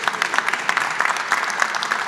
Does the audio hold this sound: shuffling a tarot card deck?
no